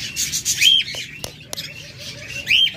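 Lovebirds kept in a cage while nesting on eggs give short sharp chirps and squawks at close range, with a few scratchy rustles and clicks between the calls.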